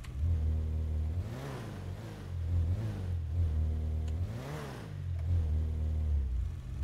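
Harley motorcycle engine in a GTA game revving in repeated rising and falling swells over a steady low rumble, close and fairly loud, with no talk.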